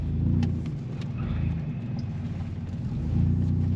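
A car takes a sharp turn on a test drive, heard from inside as a steady low engine rumble with gentle swells in loudness, close and without talk.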